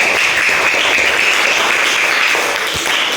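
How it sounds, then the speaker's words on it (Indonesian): A classroom group of students gives steady, loud applause for the Ar-Rahim group, dense clapping sustained evenly throughout. "silakan beri aplaus untuk kelompok Ar-Rahim"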